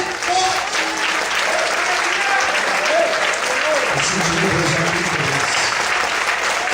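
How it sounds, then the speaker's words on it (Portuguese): A church congregation applauding during an evening service, sustained loud clapping filling the room throughout, with voices and shouts mixed in beneath the applause. "Levanta a mão, glorifica e aplauda o nome dele."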